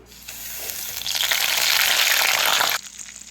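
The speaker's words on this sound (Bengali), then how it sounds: "আমার মাছের মাথাটা আমি নুন হলুদ দিয়ে ভালো করে ভেজে নিয়েছি কড়া করে" Hilsa fish heads rubbed with salt and turmeric dropped into hot oil in a wok, a loud steady sizzle swelling and holding for a few seconds before cutting off abruptly.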